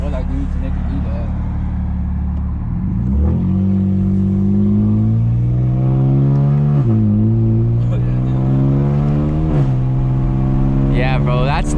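A 2008 BMW 135i E82 with a dual clutch gearbox pulls hard through the gears. Its engine note climbs, then drops sharply at each quick shift. A loud interior drone runs throughout, and a voice is heard.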